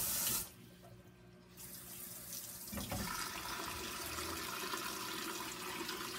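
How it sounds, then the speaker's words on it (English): Cold water runs from a tap into a pot of chitterlings after a brief rush, a steady close splashing stream that continues without pause. "I'm going to fill this up with cold water"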